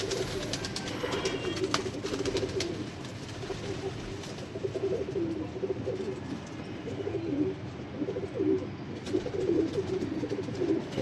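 Sialkoti pigeons coo continuously and fairly close, their low, rolling calls overlapping throughout with no talking.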